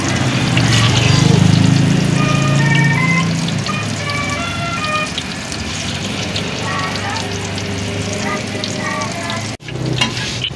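Dough frying in hot oil, a loud continuous sizzle and bubbling up close, heaviest at the start and then settling into a steady crackle, with occasional stirring and voices talking underneath.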